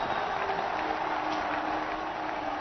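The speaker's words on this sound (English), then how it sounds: "First boundary of the Bangladesh innings, and the crowd is delighted." A large cricket crowd at a Pakistan vs Bangladesh Asia Cup 2012 match cheers a boundary in the Bangladesh innings, a steady wash of roaring and applause held at an even level throughout.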